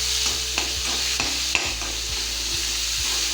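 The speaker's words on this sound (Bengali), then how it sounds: "এবার এটা নাড়বো" About three large onions fry in a pan on high gas for egg vegetable chow mein while a utensil stirs them. Rhythmic scraping strokes land roughly every half second over a constant close sizzle.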